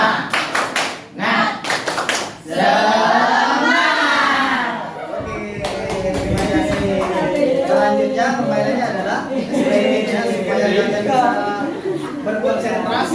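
A classroom group claps in rhythm for the "tepuk semangat" cheer, with bursts of sharp, loud, patterned claps that blend with children's voices chanting along.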